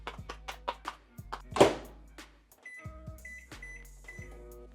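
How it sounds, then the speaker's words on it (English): A microwave oven heats a packaged prepared meal: a series of button taps, a door thud, then electronic beeps over a low steady hum. "we'll toss it in the microwave"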